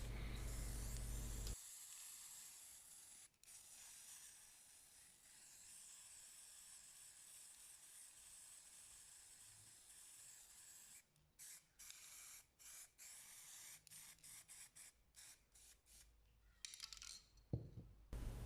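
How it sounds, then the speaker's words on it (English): Black spray paint hisses steadily from a can onto water, close and continuous, then breaks into short repeated bursts with clicks near the end. "I start with quite a big amount of black paint and spray that in the water"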